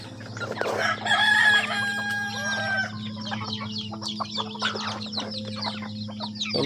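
A rooster crows loudly amid a busy chorus of clucking chickens, with other birds chirping throughout a steady farmyard background.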